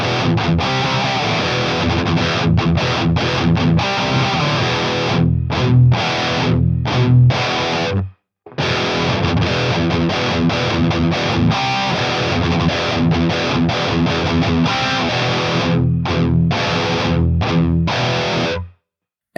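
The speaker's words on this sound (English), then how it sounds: "You don't lose too much bass with the distortion either." Bass guitar played through a distortion effect, a loud continuous gritty riff with rhythmic picked notes, one brief break midway, and no voices.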